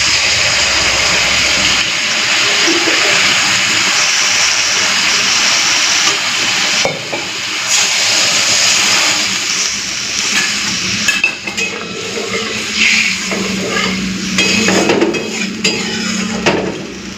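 Watery mustard and poppy seed paste hitting hot oil in a pan with turmeric and Kashmiri red chilli powder, a loud continuous hissing sizzle that gradually settles into softer, uneven crackling with occasional stirring knocks.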